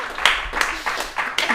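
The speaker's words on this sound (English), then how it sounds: "Clap for that." A small audience at a bookshop book launch gives a short burst of clapping, with a few uneven peaks close by over about a second and a half.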